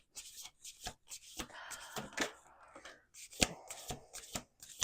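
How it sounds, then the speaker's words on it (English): A deck of playing cards being riffled and bridged, crisp bursts of flutter and snapping repeating several times, close by with no voices. "Last shuffle."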